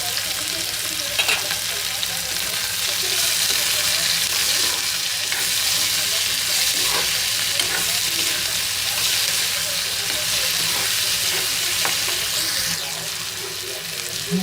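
Onion and green chillies frying in a pan for an okra curry, giving a loud, dense, continuous sizzle close up with faint stirring, and no one speaking over it.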